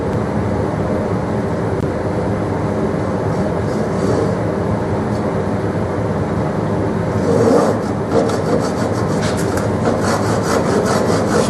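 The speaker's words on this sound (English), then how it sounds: "cut these down as far as I can to the face without hitting the face with my dovetail saw" A dovetail saw cutting down cock bead on a drawer of a Sheraton writing desk, light steady back-and-forth rasping strokes close by, continuous and alone without talk.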